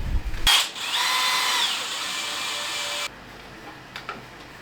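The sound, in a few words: power drill driving screws into 3D printed kart parts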